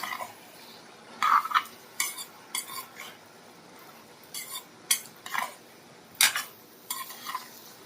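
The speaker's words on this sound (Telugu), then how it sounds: "కలపండి." Curry being stirred in a pan, with roughly ten distinct scraping, clinking strokes of a spoon against the metal spaced irregularly over a faint background hiss, close and fairly clear with no talking.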